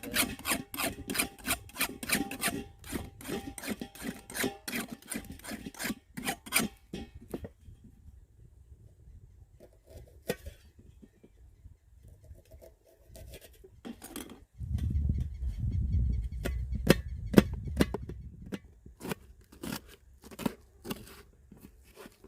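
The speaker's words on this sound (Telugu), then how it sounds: "త్వర త్వరగా కూరగాయలు కోసేసుకుందాం పొద్దున్న" A knife taps rapidly on a board as vegetables are chopped in quick bursts, with a short quiet pause in between.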